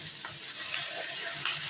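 Chicken pieces seasoned with salt and turmeric fry in a hot pan, a close, steady sizzle with faint stirring scrapes and no voices.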